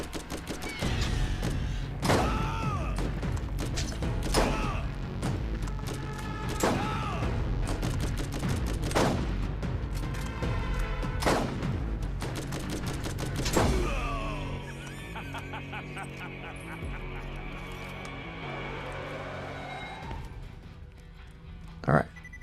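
Rapid gunfire bursts from a Borderlands shooter, loud repeated shots with mechanical clanks and a spoken voice over the first half, then quieter game ambience with a final sharp blast.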